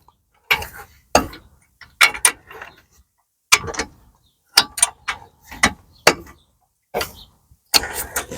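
Ratchet wrench turning the bottom bolt on a BMW E92 3 Series front wheel bearing, heard as repeated bursts of quick clicking strokes separated by short pauses, close and clear with no talk.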